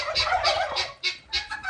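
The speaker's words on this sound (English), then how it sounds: "guineas, turkeys, simmer down." Turkeys gobbling and guinea fowl calling on a rainy homestead, a series of loud, close bursts of rapid rattling calls overlapping in quick succession.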